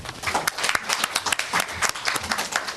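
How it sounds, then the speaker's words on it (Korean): Audience applause greets a moderator being introduced at a Korean science and technology ODA panel discussion, a dense patter of many hands clapping at moderate loudness for nearly three seconds. "박수로 맞아주시면 되겠습니다"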